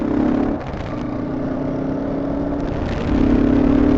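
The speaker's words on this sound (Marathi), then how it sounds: "चालव गाडी चालव तू." A car driven at night, its engine humming steadily with a low drone that rises into revving at the end, close and loud with no talk.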